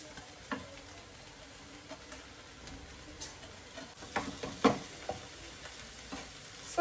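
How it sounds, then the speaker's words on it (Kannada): Poha with potatoes and peas being stirred in a pan over low heat, a spoon scraping and tapping softly at an irregular pace above a faint, steady sizzle. "ಸೊ ಇದನ್ನ ನೀಟಾಗಿ ತಿರುಗಿಸ್ಕೊಳ್ಳೋದು ಇವಾಗ ಅಷ್ಟೇ, ಕಲಿಸ್ಕೊಳ್ಳೋದು."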